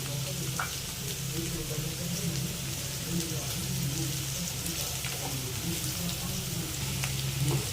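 Ground paste of garlic, ginger, black pepper and cumin sautéing in hot oil for mutton kulambu, a continuous loud sizzle and crackle with occasional stirring scrapes and faint background voices.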